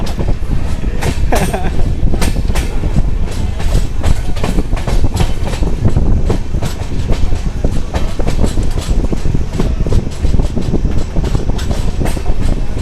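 An Indian passenger train, the Purna–Pune express, rolls along with a constant loud rumble and rhythmic clickety-clack of wheels on rail joints, heard steadily throughout without talk.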